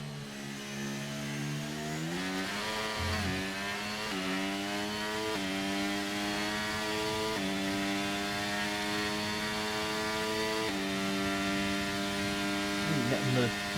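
Racing car engine in a Formula 1 video game at Abu Dhabi, revving hard to the limiter with a steady stepped rise in pitch and three distinct upshifts, loud and continuous throughout.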